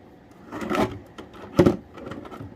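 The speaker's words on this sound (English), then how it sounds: "I gotta be careful closing some of these drawers" Drawers in a cabinet holding a smoke alarm collection being slid shut, two soft scraping thuds about a second apart, the second sharper, close and fairly quiet with no talking.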